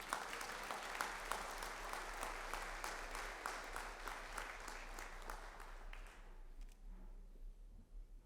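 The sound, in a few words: audience applause for honor graduates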